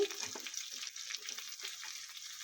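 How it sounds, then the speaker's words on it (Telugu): Okra pieces frying in oil in a kadai for an Andhra-style aloo bhendi fry, a soft, steady sizzle with faint bubbling and light stirring. "ఆయిల్ వేసుకొని మనం ముందుగా కోసి పెట్టుకున్న బెండకాయ ముక్కలు కూడా వేసేసి"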